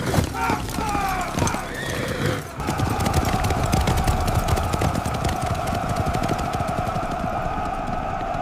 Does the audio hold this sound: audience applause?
no